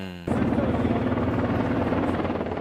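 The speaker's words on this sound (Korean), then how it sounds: "군용 헬기가 요란한 굉음을 내며 서울 여의도로 잇따라 들어옵니다." Military helicopters fly in over Yeouido, Seoul with a loud, steady rotor roar that starts abruptly and stays dense and close throughout, with no voices over it.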